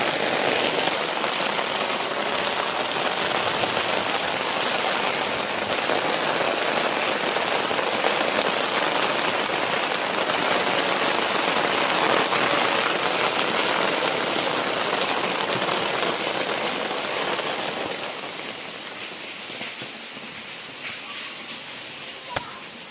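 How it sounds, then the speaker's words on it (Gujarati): Steady rain pours down over a city street in Bhavnagar, a dense continuous hiss that holds level for most of the stretch and eases slightly near the end, with no talk. "વરસાદ ચાલુ છે, તમે જોઈ શકો છો."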